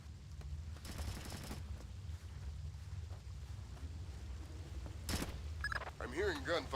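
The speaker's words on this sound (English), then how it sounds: "I'm hearing gunfire down there, Fisher." Gunfire from the Splinter Cell Chaos Theory video game, heard as distant bursts beneath a steady low rumble of in-game ambience, with a louder sharp crack near the end followed by warbling electronic tones.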